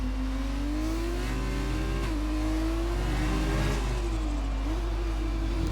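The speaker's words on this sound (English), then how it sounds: "A bit of a short shift up into 5th." Formula 2 racing car at the Mexico Grand Prix, engine screaming at high revs with a quick short upshift into fifth gear, a steady loud whine rising and dipping with each shift, close and continuous.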